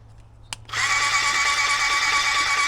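A click, then a paint spray rig's pump motor starts up and runs in priming position with a steady, loud mechanical whine, close by and without talk.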